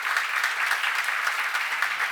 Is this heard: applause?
yes